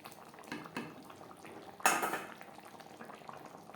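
Cauliflower stirred with garam masala powder in a pan, with soft scrapes and clinks of a spoon on metal and one louder scrape partway through, close up with a gentle simmering bubble underneath and no speech.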